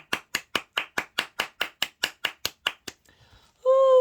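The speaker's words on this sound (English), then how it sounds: "try not talk while I'm doing loud clapping" About fourteen loud, sharp hand claps come in a fast, perfectly even rhythm, close to the listener, then stop; a brief quiet follows before a steady tone starts at the end.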